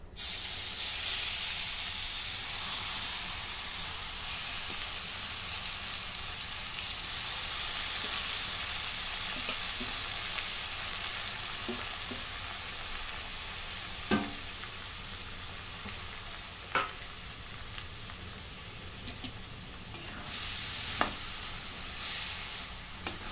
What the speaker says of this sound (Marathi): आता हे परतून घेते मी 2-3 मिनिटं.